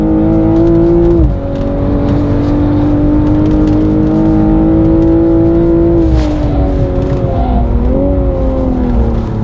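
A BMW M240i, G42 generation, accelerating out of a corner on a race track, its engine note loud and close, rising steadily in pitch with a brief dip near the start and slight wavers later on.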